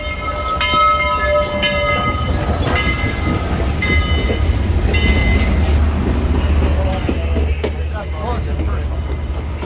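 Steam locomotive 4501 approaching at the Tennessee Valley Railroad Museum, heard from aboard a passing train: repeated horn or whistle blasts over a steady low rail rumble and clatter, with people talking nearby.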